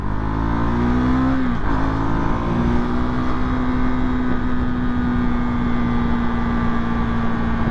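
A motorbike engine runs steadily on the road in third gear, a loud continuous drone with a brief dip in pitch early on before settling into an even cruising tone, no talk.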